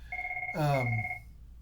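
A mobile phone rings with a steady electronic tone, while a brief swooping sound cuts across the middle of the ring.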